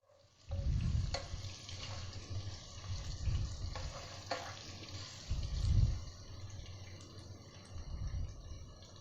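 Sliced onions frying in a pan until light brown for aloo matar pulao, a faint continuous sizzle with soft stirring swells and occasional light clinks, no talking.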